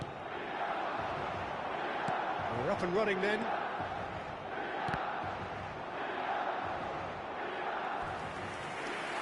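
A football stadium crowd roars steadily through match day, loud and constant, with cheering swells and shouts rising briefly, while a commentator talks over the din.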